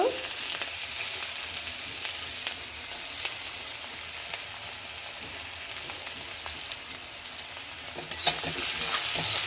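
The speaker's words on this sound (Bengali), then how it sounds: "পেঁয়াজগুলো ভাজতে থাকবো হালকা লো ফ্লেমে" Chopped onions frying over a low flame in a pan, a steady soft sizzle running throughout with occasional stirring scrapes and clicks, close and fairly even, no talking.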